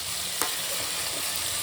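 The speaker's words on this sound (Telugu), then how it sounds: "లైట్గా ఒక లేయర్ వచ్చేటట్టుగా రెడ్గా ఫ్రై చేసుకున్నాం గీలో" Paneer and cashews fry in ghee with a steady, soft sizzle, and a single stirring clink lands partway through.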